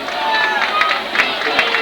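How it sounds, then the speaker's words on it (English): A high school football crowd at a Winder-Barrow vs Oconee County game makes steady, loud cheering and babble, with a few sharper shouts rising from the din. "Nick Gallimore asking the crowd to make some noise."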